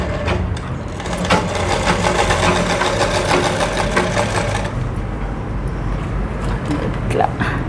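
Sewing machine stitching the neckline of a drop neck blouse with piping, running as a steady, dense mechanical whir with rapid repetitive clatter, loud and close throughout.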